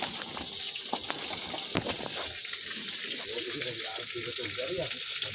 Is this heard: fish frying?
yes